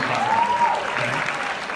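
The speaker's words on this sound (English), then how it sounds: "Now, the revamped business activity tracker, well, let's clap." Audience applause breaks out at a corporate leadership conference presentation, a steady moderate wash of clapping running through the whole short stretch with a faint tonal sweep near the start.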